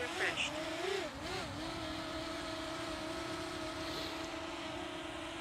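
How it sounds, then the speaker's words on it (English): A Potensic Atom drone lifts off and flies close by, its motors giving a steady, loud whine that wavers in pitch at takeoff and then holds level throughout. "we just push up to get the drone airborne."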